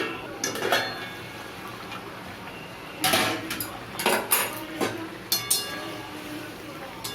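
A lid lifted off a pan of mustard pomfret curry, with several sharp metallic clinks and clatters standing out over quiet kitchen background noise.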